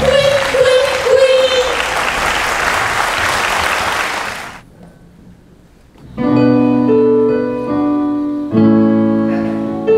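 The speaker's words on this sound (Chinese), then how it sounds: "用加倍的掌声来欢迎我们的张宝老师带来精彩的" An audience at a stage show breaks into loud, dense applause that lasts about four and a half seconds, then stops abruptly. After a short quiet gap, music and singing begin.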